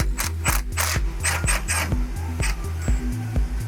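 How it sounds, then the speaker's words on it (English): A wrench works a 10 mm brake line fitting loose while coilovers are fitted to a Cadillac ATS. Close, rhythmic scraping ratchet strokes repeat about a dozen times, loud and alone. "Get that brake line fitting off."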